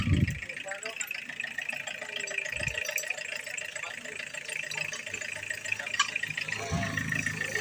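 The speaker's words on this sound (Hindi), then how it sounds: "और उसको हम चालू करेंगे अभी टाटा सुमो विक्टा को" A Tata Sumo Victa engine idles steadily after a cold start, a constant mid-pitched rattly drone close by with a couple of low thumps, running on alone with no talk.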